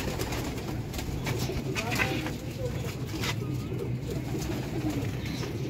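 Pigeons in a seller's setup coo steadily in a dense low murmur, with a voice talking faintly underneath.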